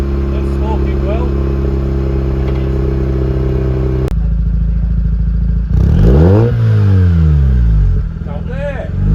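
A Mazda RX-8 rotary engine idles loudly through a new catback exhaust, then revs up hard in sweeping rises and falls before settling, with speech mixed in.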